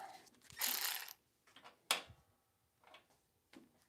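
An electric ratchet whirs in one longer burst, followed by a few short, sharp clicks and mechanical ticks. All of it sounds faint and close in a quiet garage.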